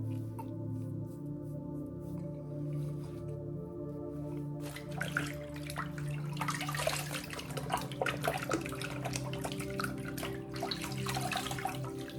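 Water runs from a tap during rinsing after a straight razor shave, starting as a low steady flow and turning into a louder, splashy spatter partway through, with no voices.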